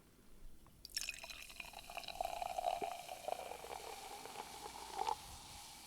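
High Noon pineapple vodka soda is poured into a glass, starting with a sudden splash, then a fizzing, bubbly trickle that lasts several seconds, with a brief louder surge near the end.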